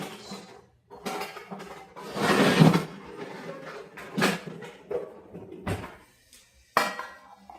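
Two large metal pans clank and rattle as they are handled, with several sharp knocks and scrapes spread irregularly across the scene.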